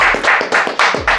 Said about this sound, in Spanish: Muchachos, el aplauso nosotros para nuestro invitado.